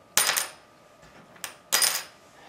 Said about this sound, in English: I'll just drop the tusk one first. Hear what that sounds like.